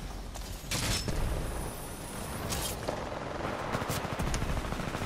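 Rapid automatic gunfire from Titanfall 2 rattles on steadily as a dense, loud burst, with a few sharper shots punching through the continuous stream.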